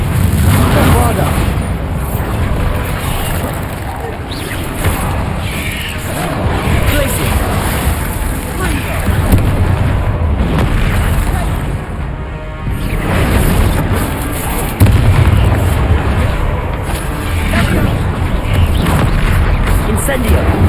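Bombarda spell explosions from the Hogwarts Legacy video game, dense repeated booms and blasts with constant crashing debris over a noisy battle din, loud and near throughout, with brief speech-like babble mixed in.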